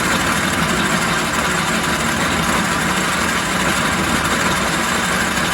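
A Logan 210 metal lathe taking a light facing cut at 375 RPM produces a continuous, even mechanical drone with a dense hiss, loud and unchanging throughout.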